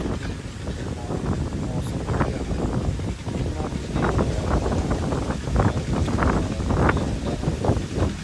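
Cool wind blows through neem and jamun trees, a steady, gusty rush with rustling and microphone buffeting that runs unbroken through the whole stretch.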